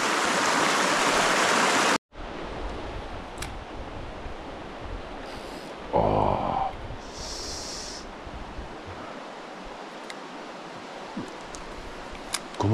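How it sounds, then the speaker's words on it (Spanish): A small mountain stream fed by hillside brooks flows steadily with low water, a constant broad rushing wash close to the listener that carries on throughout, with brief knocks and handling noises over it and no speech. "Aquí se juntan muchos, muchos arroyitos, así que vienen de las laderas de las montañas."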